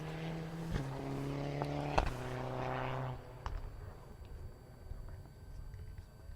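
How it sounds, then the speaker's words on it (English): A Mitsubishi Evo 9 rally car passing a spectator point on a rally stage, its engine droning loudly with a clear pitch shift as it goes by, then fading away into outdoor background noise. "As Matt Adams and Lisa Hudson in their Mitsubishi Evo 9 come through our spectator point here on stage 9, car number 20."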